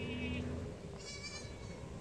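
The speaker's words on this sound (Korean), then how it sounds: "예, 보아 염소랍니다." A Boer goat bleats once, a short wavering cry near the start, then a fainter high call follows over low background noise on a farm.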